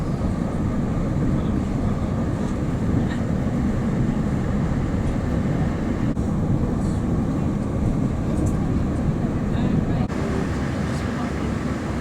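A TransPennine Express train departs with a steady, loud rumbling roar that stays constant throughout, heard from on board or close alongside, with no clear speech over it.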